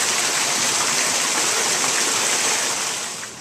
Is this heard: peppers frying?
no